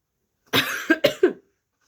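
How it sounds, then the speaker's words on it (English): A short burst of four close, harsh coughs in quick succession, then silence. "Sorry, just had a little coughing fit right there."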